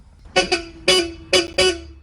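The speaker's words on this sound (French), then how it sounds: "Et voilà le bruit du klaxon d'une traction." Four short horn blasts from an old Citroën Traction Avant car, close and loud, with a double honk, a pause, then two more toots in quick succession.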